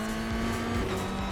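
A race car in a racing game sliding through a sequence of corners under braking, its engine note droning steadily with a sustained tonal whine and shifting pitch, loud and continuous throughout without any talk.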